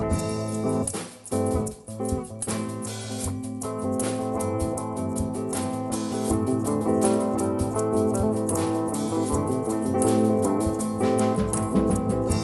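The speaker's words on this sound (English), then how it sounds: "The first thing I ever recorded on that was this really quiet instrumental piece" A quiet, steady instrumental piece recorded on a multitrack recorder, with sustained tonal layers and soft rhythmic accents, playing continuously at moderate level with no singing.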